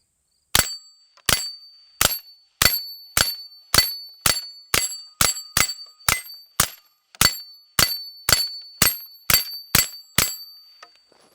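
Pistol shots ring off a steel target rack one after another, about eighteen sharp cracks, each followed by a bright metallic ping, spaced at a steady quick rhythm and loud and close, with no talking.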